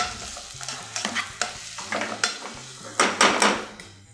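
Onions fry in oil, with sizzling bursts and repeated scraping and clinking as a utensil separates and stirs them in the pan, loud and close with no talking.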